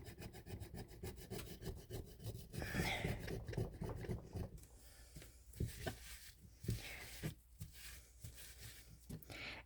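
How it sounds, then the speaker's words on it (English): Coarse sandpaper scrubs across a cured epoxy resin bowl cast with Mix2Mold casting powder, close and steady with rhythmic rasping strokes that grow sharper and more scratchy partway through. "I'm trying to sand it down, but it's really not touching it"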